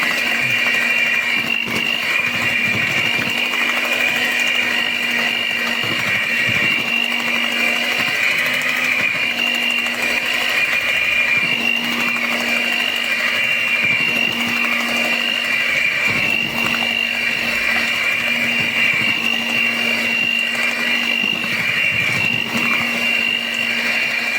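A hand mixer beating vanilla cake batter, a loud, unbroken motor whine with a bright whirring tone that holds steady, close up and with no pauses.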